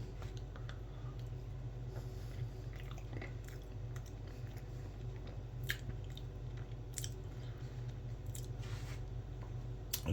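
Someone chewing a mouthful of fondant potato, soft close mouth and squishy chewing sounds with occasional faint clicks over a quiet low room hum, no talking.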